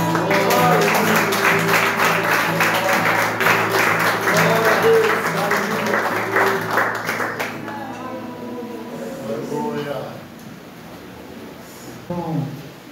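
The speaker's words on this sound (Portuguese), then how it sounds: "Aplauda o nome de Jesus." A church congregation at a communion service applauds loudly with dense, rapid clapping that then fades away, and a voice speaks over the tail end of it.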